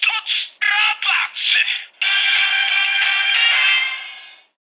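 A DX Gekitotsu Robots Gashat, a Kamen Rider Ex-Aid toy, plays its first electronic sound: a bright, loud burst of short chopped synth stabs followed by a sustained jingle that fades out, with no talking.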